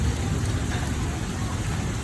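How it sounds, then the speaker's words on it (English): Pea-sized hail and rain striking a house, gutter, sidewalk and ground during an Oklahoma spring thunderstorm, heard as a steady, dense, close patter and hiss without pause. "You can hear the hail hitting the house and the gutter and the floor and the ground and the sidewalk."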